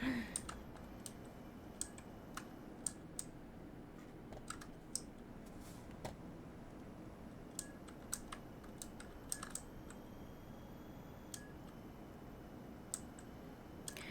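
Computer keyboard keys tapped to steer a truck in American Truck Simulator, scattered light clicks in irregular bursts, quiet and close over a low engine and road hum.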